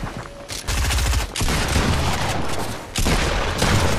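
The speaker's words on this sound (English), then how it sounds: "This shooting is disgusting." Gunfire in the video game Fortnite, dense rapid bursts of shots in loud, continuous volleys with brief gaps between them.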